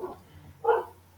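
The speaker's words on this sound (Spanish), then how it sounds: "Ahí está ladrando el perro." A dog gives a single short bark, preceded by a faint yip, fairly near, over a low background hum.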